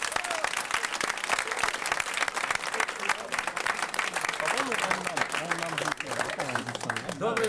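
A studio audience at a televised quiz-show final applauds continuously and loudly, the thick clapping holding steady throughout, with a voice faintly audible beneath it near the end.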